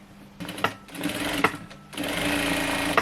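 Sewing machine stitching lace trim onto a pillowcase, a steady close-up mechanical whirr with rapid needle chatter that briefly eases, then runs on continuously with no voices.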